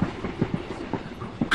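Wheels clack in a short, rhythmic run beneath a moving passenger train at night, with muffled low thuds and a steady rumble heard from inside the carriage.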